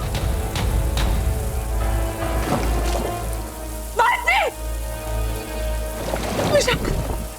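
Staged rain pours down steadily on a Hindi TV drama set, a dense continuous hiss and patter with voices speaking over it.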